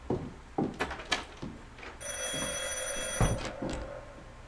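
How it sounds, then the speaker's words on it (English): Phone ringtone in the video game I Saw Black Clouds, a loud bright bell-like ring that sounds for over a second among scattered knocks and thumps. "It's an interesting ringtone."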